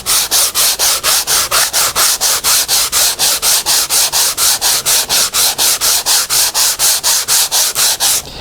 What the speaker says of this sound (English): I can get rid of that pretty quickly just with a quick sanding.